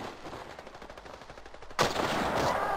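A single sharp sniper rifle shot bursts out in Battlefield Play4Free, following a quieter stretch of faint rhythmic game background noise and then ringing into a loud sustained wash of sound.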